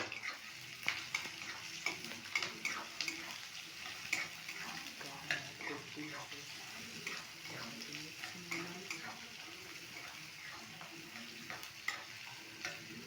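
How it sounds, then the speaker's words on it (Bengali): Onion fries lightly in about three spoons of hot oil in a wok, a soft, even sizzle broken by quiet ticks and spatters and a few stirring scrapes, heard close and alone. "পেঁয়াজটা হালকা একটু ভাজা হবে।"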